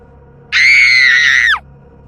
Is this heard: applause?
no